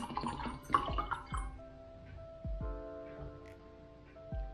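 Bottled water poured into a wine glass, with splashing bursts and bright ringing glass tones that linger between pours, close and clear with no talk.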